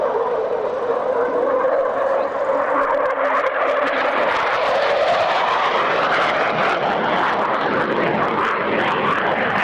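Jet aircraft diving at the 1999 North Weald airshow, a loud sustained roar building and sweeping in pitch as it passes, steady and powerful throughout with no talk.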